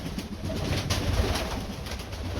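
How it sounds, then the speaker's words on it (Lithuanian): A pigeon coos close by, soft low repeated calls over a steady background hum, with a couple of brief sharper noises in between. "Gražuolis paukštis."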